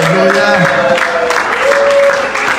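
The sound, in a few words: congregation acclamations and cries of joy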